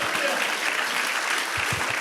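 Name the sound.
congregation clapping in praise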